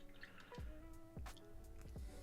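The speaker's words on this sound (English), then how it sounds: "we're going to wash the brush" Paintbrush swished and rinsed in a water pot while painting a miniature, giving three separate watery plops and drips at a steady pace, close and fairly quiet.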